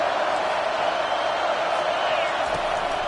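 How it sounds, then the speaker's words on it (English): Football stadium crowd at a game against Ohio State roaring on third down, a dense, steady wall of broadband noise holding loud and unbroken throughout. "Decibels rising as the crowd gets behind this defense on 3rd down"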